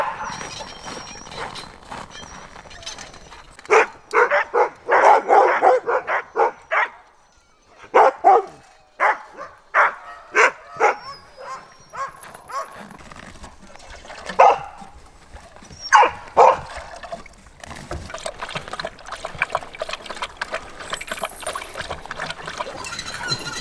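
Sled dogs at feeding time during a polar winter bark loudly and excitedly, a pack of close, overlapping barks and yips arriving in bursts with short quieter gaps between them.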